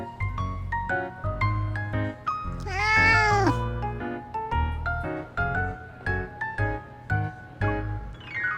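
Cats in the video game Love and Deepspace meow over and over, one long drawn-out caterwaul in the middle among shorter close meows, clear and prominent with no talking.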